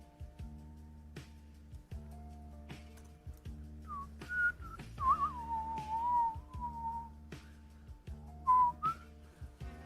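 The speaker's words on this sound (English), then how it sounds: "That's me whistling." A person whistles a short, wavering tune, faint and intermittent, over a looping background music track with a steady beat; no talking is heard.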